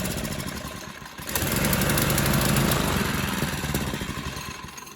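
A junk-pile mini bike's small engine with a clogged fuel system runs roughly and unevenly, surging louder midway before fading back, close and alone.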